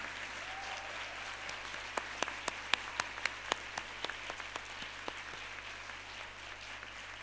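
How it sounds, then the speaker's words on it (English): A graduation convocation audience applauds at HELP University, a broad sustained patter of many hands with sharper individual claps standing out in the middle, then gradually thinning toward the end. "Please join me in a round of applause for our families, our lecturers, our friends"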